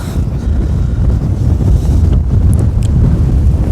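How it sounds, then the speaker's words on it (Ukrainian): Strong wind roars and buffets the microphone in a constant, heavy low rumble, with no voices. "тут такий страшний вітер, що просто здуває"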